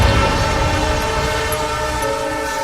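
A train rolls past a railway crossing with a steady, loud rumble and tonal horn-like drone held throughout, no voices present.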